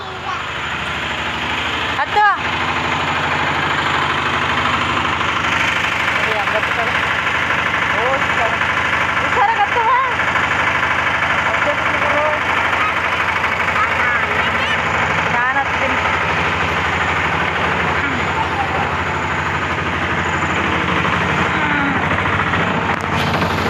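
A motorbike engine idles steadily throughout, a continuous low rumbling drone close by, with people talking over it.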